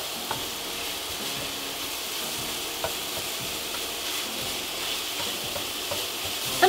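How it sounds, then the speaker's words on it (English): Homemade ground pork sausage frying in a pan gives a steady, close crackling sizzle throughout, with a few sharper pops and spits and no talking. "Just keep an eye on your sausage. We wanna cook it until it's no longer pink."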